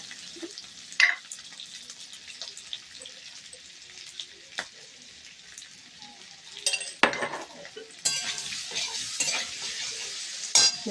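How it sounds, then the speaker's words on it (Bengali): Potatoes frying with salt and turmeric in a pan for a vegetable curry, crackling with a steady sizzle while a spoon stirs and scrapes, giving sharp clattering bursts near the end. "নুনটা হলুদ দিয়ে আলুটা ভাজলে দেখতেও সুন্দর হয়"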